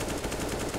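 Rapid automatic gunfire in a Counter-Strike-style shooter match, a dense continuous burst of shots filling the whole moment, loud and unbroken.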